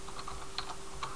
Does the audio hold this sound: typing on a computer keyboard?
yes